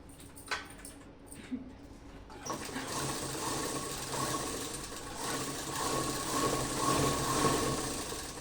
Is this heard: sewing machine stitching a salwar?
yes